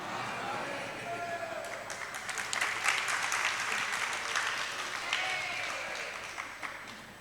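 An audience claps together during a religious sermon, a dense burst of applause that swells in the middle and tapers off over several seconds.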